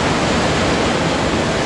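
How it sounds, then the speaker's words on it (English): Ocean waves crash over the Coogee Beach ocean pool at high tide, a loud, continuous broadband roar of surf and churning water with no pauses. "doesn't it look fun having the waves crash over you while you're in the pool?"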